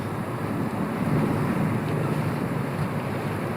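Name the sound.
Colvic Watson 34 boat ploughing through Danish waters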